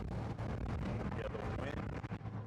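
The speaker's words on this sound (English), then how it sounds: "the wind is deafening" Wind roars through the open windows of a 2014 Ford Focus ST at highway speed, a rough, fluttering buffeting that stays loud and continuous for the whole stretch, with a low road rumble underneath.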